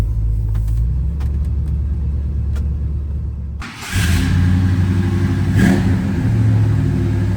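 A 1968 Ford F-100 Ranger with a 390 four-barrel V8 and C6 automatic rumbles loudly on a cold start. A brief dip and blip break a steady, deep, throbbing idle at close range.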